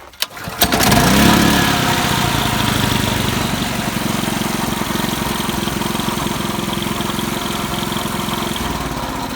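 RYOBI RYI4022X inverter generator started after an oil change, a brief pull and catch followed by a loud, steady close engine drone that settles slightly as it keeps running.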